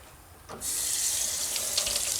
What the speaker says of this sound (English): Rinse your colander out.